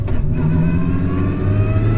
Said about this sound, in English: But listen to the transmission